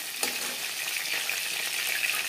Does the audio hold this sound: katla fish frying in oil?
yes